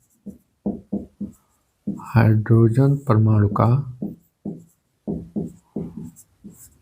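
Short scratchy strokes of writing on a board as a hydrogen atom energy level diagram is drawn for a Class 12 physics lesson, clustered before and after a stretch where someone speaks in Hindi.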